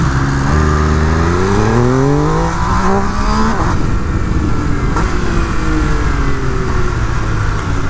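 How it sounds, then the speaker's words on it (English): An MV Agusta limited-edition motorcycle revving hard and accelerating at full throttle, a loud close engine note climbing steadily in pitch, easing briefly, then pulling away with a sustained roar and no talk. "I kind of eased into it and then gave it full throttle, and the bike just took off"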